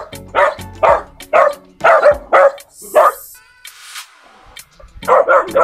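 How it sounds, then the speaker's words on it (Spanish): Several dogs bark at a fishing port in Santa Fe, Havana, Cuba, a rapid run of loud close barks and yips with a brief whine in the middle, and a voice speaks faintly between them. "Esa cantidad de perro."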